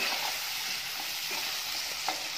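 Food fries in a pan for a hog plum dish while it is stirred, with salt added. A steady, close sizzle runs throughout with soft scraping from the spoon, and no voices.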